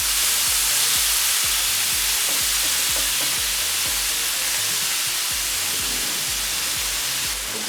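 Beef samosa filling fries in oil in a pan, giving a steady, dense sizzle with faint crackles that runs unbroken and fairly close throughout.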